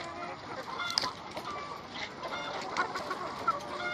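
A hen clucks and squawks while being grabbed and held during egg collection, giving a string of uneven, moderately loud calls at close range.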